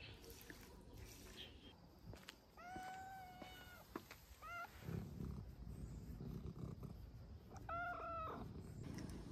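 A cat meows outdoors in a rural vegetable garden at sunset, giving several clear, drawn-out meows in separate bursts over quiet background noise.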